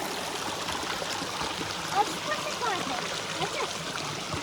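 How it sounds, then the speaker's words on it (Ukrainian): A small waterfall on a forest river, heard as a steady close rush of flowing, splashing water with faint trickles, continuing evenly throughout. "Маленький водоспад."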